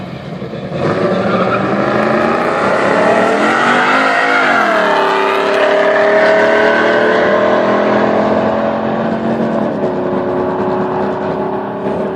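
Street-modified cars launching at a drag race start, a loud sustained engine roar rising through gear changes with tire noise, steady and close throughout, no talking heard.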